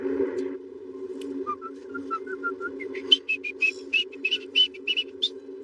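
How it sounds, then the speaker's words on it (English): Loud, shrill whistling rises in a run of short repeated pitched bursts over a steady low hum, getting louder and more insistent toward the end. "I didn't want to hear the loud whistle."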